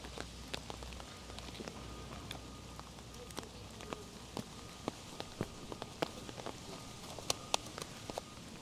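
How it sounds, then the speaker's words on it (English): Heavy rain falls outdoors in a city street, a steady soft hiss with scattered sharp drip and splash ticks, fairly quiet and continuous with no one talking. "it's raining pretty hard"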